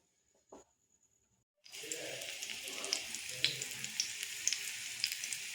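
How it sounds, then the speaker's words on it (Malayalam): Coconut-filled banana dropped into hot ghee, sizzling and frying steadily after a brief quiet start, a close, continuous crackle with scattered pops throughout. "ഇതിലേക്ക് ഞാനിത് ഫ്രൈ ചെയ്യാനായി ഇടുന്നുണ്ട്."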